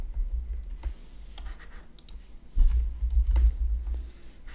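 Someone types steadily on a computer keyboard, a continuous patter of key clicks over a low background hum, with a few heavier keystrokes.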